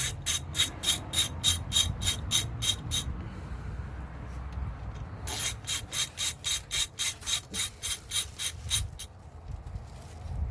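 A ratchet wrench cranks a 10 mm bolt loose on a Mitsubishi Evo 9 during a regulator install, its rapid clicking pawl coming in two close, loud bursts of steady strokes separated by a brief pause.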